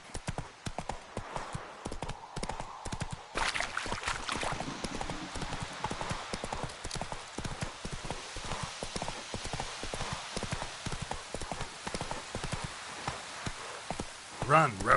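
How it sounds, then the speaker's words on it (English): Horse hooves gallop in a steady, fast clip-clop rhythm in The Witcher 3 video game, loud and continuous throughout, with a voice urging the horse on over the hoofbeats. "Run, Roach. Giddy up"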